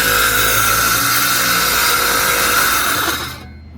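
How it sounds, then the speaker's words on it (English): A power saw, circular saw or jigsaw, cuts through cement backer board in one loud, steady, continuous run that stops abruptly near the end of the cut. "You just cut that with a circular saw or jigsaw"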